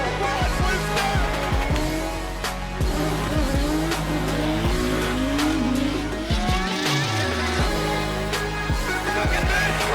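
Pro-qualifying drift car at an IDC 2018 round screams through a run with loud engine revving and long tire squeals, then a crash that wrecks its front bumper, engine cutting down near the end.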